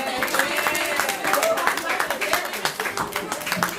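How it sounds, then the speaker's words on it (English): A crowd at a spoken-word poetry event keeps up its clapping, a dense, uneven run of hand claps that never stops, with voices talking and cheering over it. "Keep the claps going."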